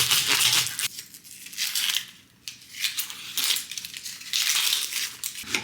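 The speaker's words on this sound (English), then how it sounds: "Cutting these really, really thin as I can with this knife" A knife slices food as thin as it can go, making a run of crisp, crunchy cuts in bursts with short pauses between strokes, close by and fairly loud, with no talking.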